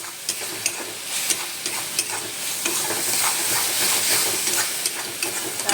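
Chili powder stirred and fried in a hot pan, a steady close sizzle and hiss broken by regular scraping strokes of the spoon, with no voices.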